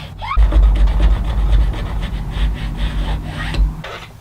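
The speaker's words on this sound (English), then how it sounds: "using a file, I'll just file a shallow groove to hold the blade" Steady rasping strokes of a file cutting a shallow groove in wood, continuous and close, with a low rumble underneath.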